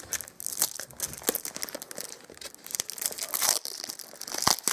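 Cardboard and plastic packaging of a vape mod being torn open up close, a loud continuous run of ripping and crinkling.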